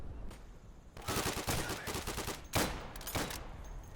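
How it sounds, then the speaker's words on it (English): WW2 firearms fire in the shooter game Day of Infamy, sharp close bursts of rapid gunshots in two clusters with a brief pause between, loud and without talk. "They also have the perfect amount of pop when shooting."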